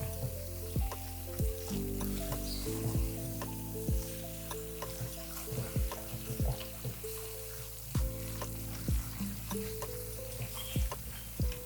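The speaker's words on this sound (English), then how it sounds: "And we mix so that we can coat the whole pasta." Bow-tie pasta is stirred through a creamy sauce in a hot pan, with a steady sizzle and repeated scraping strokes of the spoon at a regular rhythm, close and clear, with no talking.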